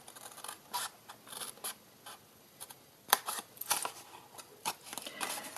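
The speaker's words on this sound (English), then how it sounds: "I'm going to cut away the score line, and on this side cut away the score line" Scissors snip through scored card while a box is trimmed by hand, giving a series of short, crisp cuts and scrapes in irregular bursts, fairly quiet and close with no talk.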